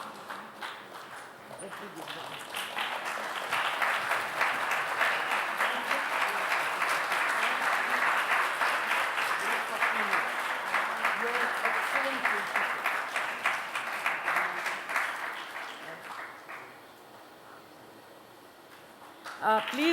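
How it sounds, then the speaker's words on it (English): Steady applause from the audience at an education prize award ceremony swells after a pause and holds for over ten seconds, then fades away, with a speaking voice returning at the end. "loud round of applause"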